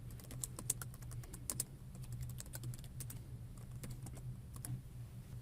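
Computer keyboard typing C++ code, a quiet, irregular run of close key clicks that comes in quick bursts, with no talk over it.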